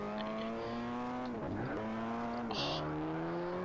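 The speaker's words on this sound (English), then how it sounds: "It sounds nice, this car." A car engine in GTA San Andreas, played on PC with an added sound pack, drones and revs with clear, rising and falling tones, dipping through a gear change midway before climbing again, close and steady with no talk.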